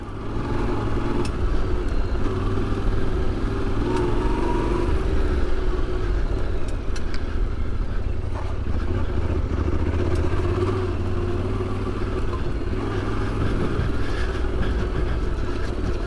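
A 2025 Yamaha Tenere 700 adventure motorcycle being ridden, its engine a steady close rumble under constant wind and road noise, with light clatter and no talk.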